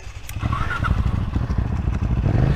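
A supermoto motorcycle engine revs and burbles nearby, a continuous loud, rough rumble with slight rises in pitch and some clatter.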